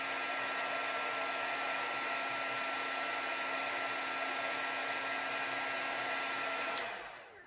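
An embossing heat tool blows a steady, loud hot-air whoosh while melting embossing powder onto a stamped image, running continuously alone before clicking off and fading in the last moment.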